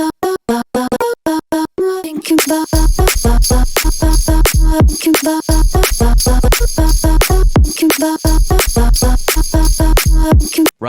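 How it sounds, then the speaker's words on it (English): Reversed sound fill in a produced song, swelling backward between sections over dense, loud, rhythmic music with a steady pounding beat. "so this is reversing the sound"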